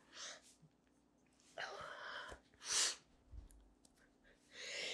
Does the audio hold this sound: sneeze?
yes